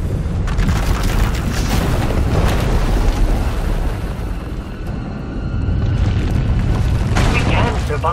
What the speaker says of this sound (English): When it erupts, the entire asylum will be destroyed